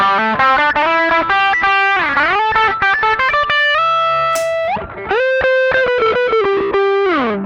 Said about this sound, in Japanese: TS ミニの音ですね。